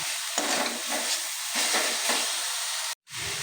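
Fried white sesame seeds are stirred through jaggery in a pan, giving a close, steady sizzle broken by repeated scraping strokes of the spoon, with no talk, before a short gap near the end.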